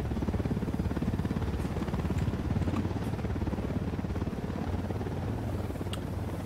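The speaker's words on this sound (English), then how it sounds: "Obviously, after the chopper goes by." A helicopter in the Ghost Recon Wildlands video game, its rotor thumping in a loud, steady rapid beat with a low engine drone throughout.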